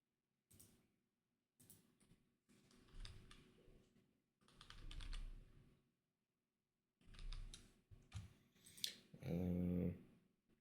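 A computer keyboard is typed on in short irregular bursts of clicks with silent pauses between, near and quiet, and a dog growls briefly at the end.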